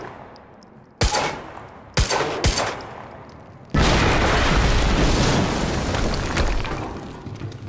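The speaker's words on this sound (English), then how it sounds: "we just heard an explosion near the harvesting perimeter" Gunfire and an explosion in the video game Quantum Break: three sharp, loud shots about a second apart, then a big boom that rolls into a long, rumbling blast filling the rest of the clip.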